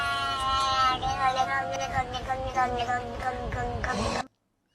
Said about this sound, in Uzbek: Mushuk gapiryapti.